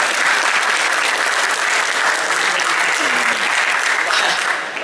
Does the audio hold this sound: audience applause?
yes